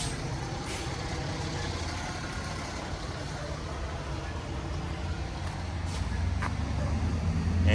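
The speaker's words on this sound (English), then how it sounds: "now the fire truck's pulling up." A fire truck pulls up nearby, its heavy diesel engine a steady low rumble that swells slightly toward the end, with a few faint high clicks or hisses over the drone.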